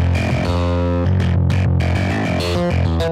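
Electric bass run through a UAD Pro Co Rat distortion plugin, playing a stiff MIDI-programmed line with a gritty, saturated, buzzing tone that stays loud and continuous throughout, with no talking.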